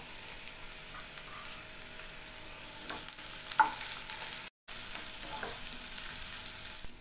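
Onions and tomatoes sauté in a pan for kara chutney, making a steady, soft sizzle with a few scraping stirs near the middle and a brief silent gap.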